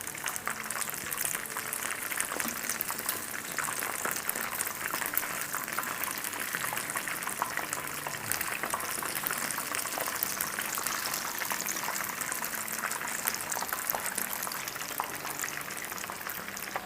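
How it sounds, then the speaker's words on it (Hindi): Chicken kababs on skewers fry in hot oil, a dense, steady sizzle with crackling spatters that stays loud and close without a break. "इस चिकन को हम फ्राई करेंगे ऑलमोस्ट 6 मिनट के आसपास"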